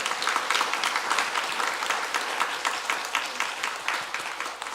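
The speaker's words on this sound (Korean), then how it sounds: "우리 어른들에게 감사의 마음을 담아서 박수로 한번 우리의 마음을 전할까요?" A church congregation claps together in a full, steady round of applause for its elders, dense and continuous from start to finish with no voices.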